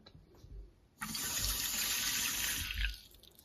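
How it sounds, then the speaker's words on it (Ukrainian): Water runs from a tap into a brand-new frying pan, starting abruptly and streaming steadily for about two seconds before easing off, close and fairly loud with no talking. "Я зараз додам води."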